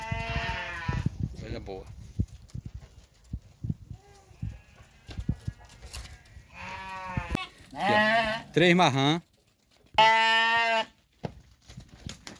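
Sheep and lambs bleat in loud, wavering calls at a livestock sale, several long bleats clustered toward the end, with people talking throughout and between the calls.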